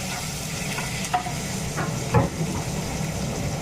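Curry leaves are stirred into hot oil with browned masala, giving a steady close sizzle and hiss. A couple of scraping stir strokes stand out, and no one speaks.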